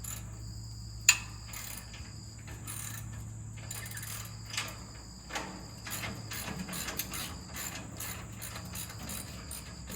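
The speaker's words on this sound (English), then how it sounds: "loosen your hinge up, slide it down" A metal hinge slides along a stall wall while being mounted, giving faint ratcheting clicks and scrapes with a few sharper knocks, close and quiet against a low hum.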